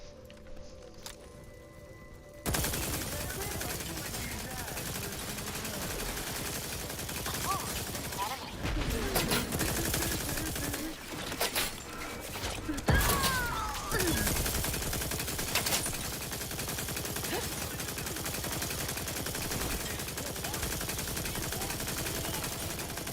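Reactivated automated turrets fire guns in a bunker battle in The Outer Worlds 2, a loud, dense and continuous barrage of gunfire with sharper bursts throughout.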